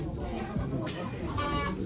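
Chickens cluck in a crowded poultry auction hall, the fowl calls brief and mixed into a dense wash of background chatter and room noise, with voices talking throughout.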